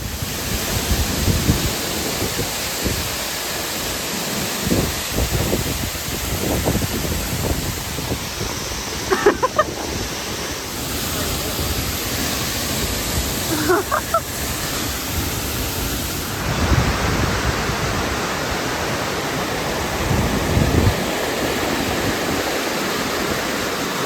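Bridal Veil Falls near Lake Serene roaring nearby as a dense, steady rush of falling water, filling the whole stretch with broadband noise, with a few faint clinks and footsteps from people walking around it.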